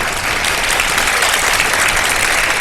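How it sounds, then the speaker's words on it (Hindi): A studio audience at a televised Ramadan iftar show claps together in sustained, dense applause, loud and even for the whole stretch. "बजा दे तालियां"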